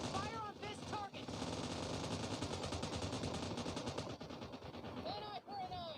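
PUBG video game gunfire, dense rapid bursts of automatic fire close by that continue almost without pause, with a couple of brief gaps and some game chatter underneath.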